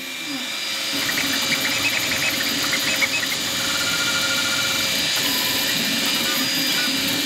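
A Two Trees SK1 3D printer runs through a print job, giving a steady mechanical hum with whirring motor tones and faint high-pitched stepper whine, continuous and moderately loud throughout.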